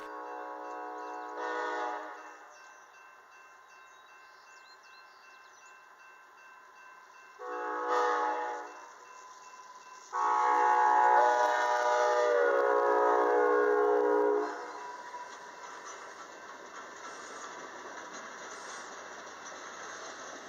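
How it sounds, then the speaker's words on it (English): An Amtrak train led by a Talgo 8 trainset rolls past on the Bellingham Subdivision, giving several horn blasts at medium distance, the longest near the middle, over a steady low rumble. "Today's Amtrak is being led by the new Talgo 8 train set unveiled in 2013"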